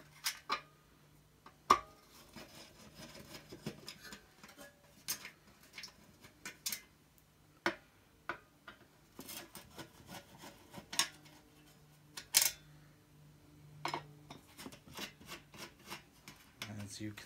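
Four screws come out of a Hoover lid, with scattered close clicks, taps and faint scraping, quiet throughout with a low hum in the background.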